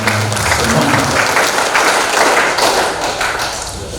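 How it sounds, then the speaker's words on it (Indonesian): Audience applause at a leadership training session in Bekasi, a sustained wash of many hands clapping for about four seconds with a few heavier taps and thuds mixed in, fairly loud and steady before easing slightly. "Tepuk tangan sekali lagi."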